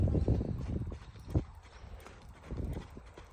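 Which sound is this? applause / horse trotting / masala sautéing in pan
horse trotting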